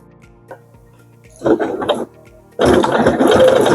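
A sewing machine stitches a fabric coaster, with a short burst of stitching followed by a louder, sustained run of close, dense machine noise.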